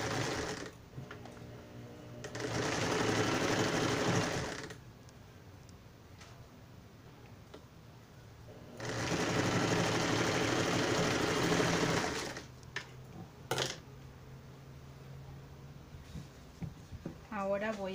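Sewing machine stitching a seam on a pair of trousers, two steady whirring runs of several seconds each, separated by quiet pauses with faint handling sounds.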